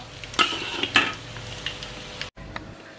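Instant noodle croquettes frying in hot oil, a steady close sizzle with a few sharp clinks and scrapes of a utensil turning them in the pan.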